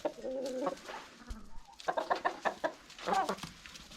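Chickens clucking and a rooster calling inside a coop, with bursts of close, varied cackling and calls and no talk.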